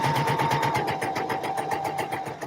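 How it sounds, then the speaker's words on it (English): A sewing machine stitching gable tops runs close and steady, its needle hammering in a fast even rhythm with a constant whining hum, alone and uninterrupted. "there's going to be bouts of sewing, bouts of speaking in between the sewing"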